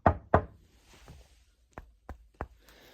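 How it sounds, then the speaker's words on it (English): Knuckles knock on a piece of wood: two sharp, close raps followed by three softer, evenly spaced knocks, with faint rustling between them and no voices. "Here's what wood sounds like."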